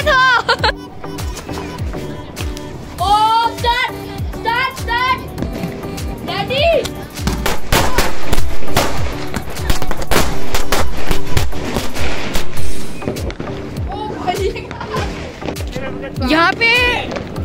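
Lakshmi bomb firecrackers burst during Diwali night celebrations, sharp loud bangs and crackling pops going off repeatedly amid a busy background, with children chattering and laughing over the blasts.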